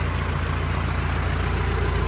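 A EURO FE 50 hp tractor engine runs steadily and fairly loud, with a continuous low rumble and broadband hum throughout and no voices.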